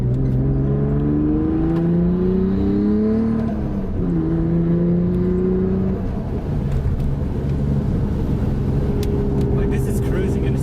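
Straight-piped Nissan R32 Skyline cruising, with a loud droning exhaust hum that rises and falls in pitch with the revs while people talk inside the car over it.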